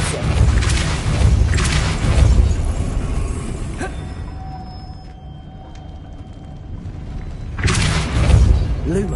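The Depulso force-push spell in Hogwarts Legacy lands as heavy booming, shattering bursts at the start and again near the end, with a quieter stretch of lingering rumble and faint debris between them.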